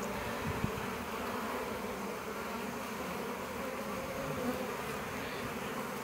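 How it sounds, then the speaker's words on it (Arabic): Continuous insect buzzing from bees around a hive with a hornet among them, a steady drone at moderate level throughout with no voices. "إذا لاحظ من وجود دبور مع النحل، هنا قوموا بتتبعه"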